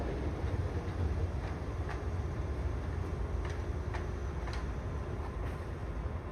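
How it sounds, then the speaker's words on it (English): The Peach monorail at Disney World passes by as a steady broadband rumble and rolling rush with faint periodic clicks, moderately distant and continuous throughout, with no talking. "And there's the Peach monorail."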